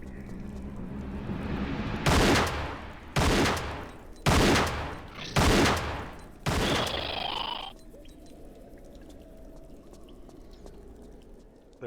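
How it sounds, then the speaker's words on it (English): Five loud shotgun blasts from a Tomb Raider level editor game, fired at huge spiders in steady succession about one second apart, each with a booming tail, followed by a brief high reload-like tone and quieter ambient game noise. "grab out the shotty. I think it takes 5 shots to kill these."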